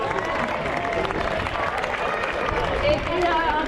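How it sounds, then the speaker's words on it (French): Outdoor crowd at the Fire O Lake festival on a lake in Geneva, Switzerland, applauding steadily: a dense, even wash of clapping from many people, moderately loud, with some crowd murmur mixed in. "Et puis on peut les applaudir, je crois."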